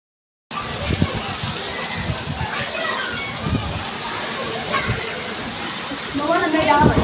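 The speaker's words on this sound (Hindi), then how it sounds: "इतना तेज़ बारिश हो रही थी बहुत ज़्यादा" Heavy rain pours steadily and loudly, a dense wash of falling water with scattered splashes and drips throughout.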